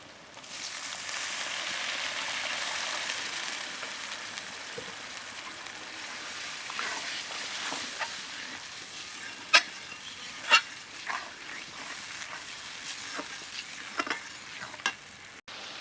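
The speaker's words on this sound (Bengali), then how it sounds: "এই মশলাটা ভালো করে কষা হওয়ার জন্য আমি একটুখানি জল দিয়ে দেব।" Masala spices for Bengali mutton kosha sizzle steadily in a pan while being stirred, a soft continuous fry broken later by several sharp spatters and clinks; no voices.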